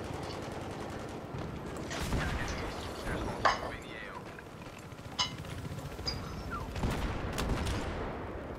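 Battlefield 3 gunfire during a capture the flag match, with a sniper shot among scattered sharp cracks and bursts over constant game noise, while a voice talks excitedly through it.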